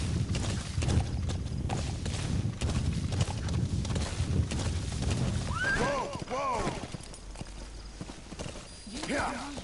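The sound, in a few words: D-horse hooves clip-clopping in Metal Gear Solid 5 video game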